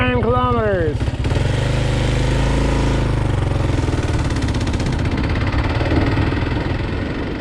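A Kawasaki KLR650 adventure motorcycle ridden on a sand road toward the Great Sand Hills, its engine droning steadily and loud, with a rising rev at the start and continuous rumble throughout.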